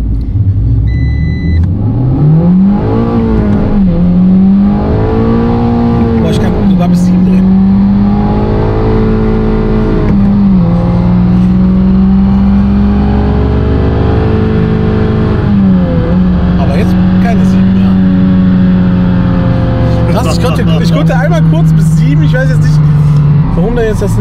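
Fiat Panda 100HP on a dyno warm-up, its engine loud and close as revs climb and drop repeatedly through the gears, with people talking over the engine noise.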